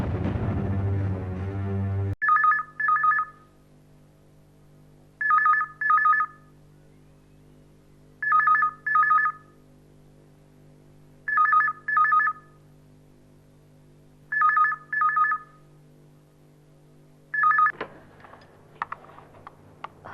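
Telephone ringing during a call in a Hindi TV serial, a low steady tone under evenly spaced double electronic rings repeating six times, loud and close, then a brief crackle at the end.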